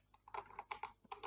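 Typing on a computer keyboard: a quick, uneven run of about a dozen soft key clicks, faint and close by, with no voice over them.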